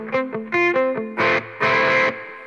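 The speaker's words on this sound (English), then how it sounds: "Great crunch. Let's add some reverb." Crunchy overdriven electric guitar with added reverb plays through a BOSS Dual Cube LX portable amp: a few quick picked notes, then two heavier strummed chords ring out and decay into a reverberant tail.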